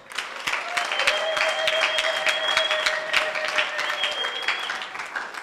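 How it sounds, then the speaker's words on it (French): An audience at a church service applauds, a sustained wash of clapping, loud and fairly close, with a few voices calling out over it. "Acclamons pour Pasteur Josiane"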